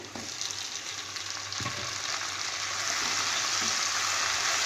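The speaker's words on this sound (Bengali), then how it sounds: "পেঁয়াজটা হালকা ভেজে নিয়েছি এবার এতে আমি টমেটো কুচিটা দিয়ে দেবো" Chopped tomatoes go into onions frying in a pan, and a steady close sizzle swells a little louder after a soft thud as they land.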